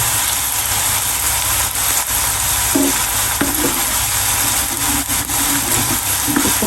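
Okra (bhindi) being stir-fried in a pan for a spicy masala fry, a steady broadband sizzle with a low hum beneath and occasional scraping stirs, close and continuous with no talk.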